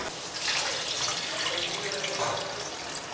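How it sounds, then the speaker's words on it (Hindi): Water poured into mushroom mustard curry masala in a pan, a steady close rushing pour lasting a few seconds with no talking. "मैंने पानी डाल दिया है"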